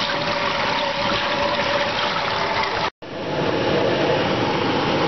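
Tap water rushing steadily through a wort chiller hooked to a faucet on a home brew day, a continuous broadband gush that cuts out for an instant near the middle before resuming at the same strong level.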